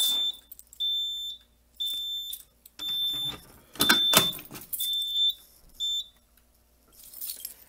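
A Simplex 4010 fire alarm panel sounds repeated high-pitched electronic beeps in regular pulses, with bursts of handling noise and clatter between some tones.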